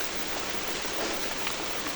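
Heavy rain pours down steadily, a dense, even hiss of drops close by with no pauses and no voices.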